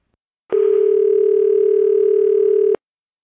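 A telephone dial tone sounds before a call as a single loud, clean, steady tone. It starts abruptly, holds for about two seconds, then cuts off sharply, with silence before and after.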